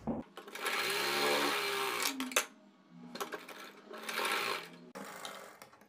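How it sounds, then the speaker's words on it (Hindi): A sewing machine stitches a blouse shoulder seam in short runs: a fast, even mechanical whirr starts and stops three or four times, with quiet pauses between bursts, and no voice is heard. "मिलाने के बाद में हाफ इंच का मार्जिन लेते हुए सिलाई से अटैच करेंगे।"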